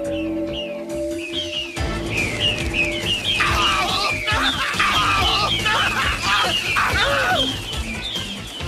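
Birds in a 1991 Saturday morning cartoon chirp and tweet in a busy flurry of repeated calls over a musical score, with a brief crash near the start.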